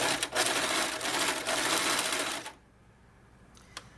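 A sewing machine stitches steadily at close range with a dense, rapid mechanical whir for about two and a half seconds. It then stops, leaving a quiet room with a couple of faint clicks.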